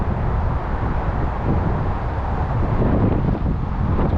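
Breezy wind blows across the microphone outdoors at sunset in Yonkers, New York, a loud steady rushing roar with a faint hint of distant traffic underneath.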